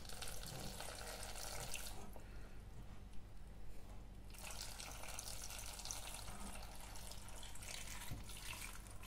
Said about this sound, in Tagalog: Maraming water ang ilagay natin